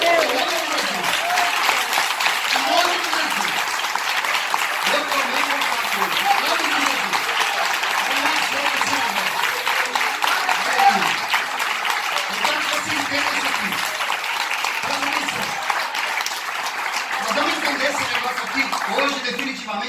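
A church congregation applauds steadily for about twenty seconds, a dense, even roar of clapping with scattered voices, shouts and laughter rising through it.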